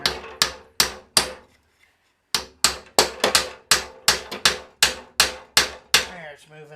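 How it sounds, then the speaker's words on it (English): A hammer strikes a 9/16 bolt being driven loose during a restoration job, a series of about fifteen sharp metallic blows, loud and close, in an uneven rhythm with a short pause partway through. "I'm just going to pound it like nicely with a hammer."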